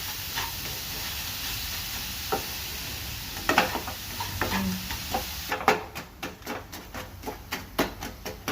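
Jaggery melting in a pan for a mango sweet, a low sizzle under repeated stirring strokes that quicken into a steady rhythmic scraping toward the end, close by, with no voices.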